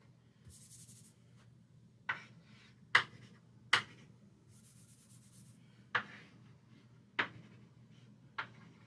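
Writing on a board during a lesson: a series of short, sharp marker or chalk taps and strokes spread irregularly over several seconds, faint and close in an otherwise quiet room.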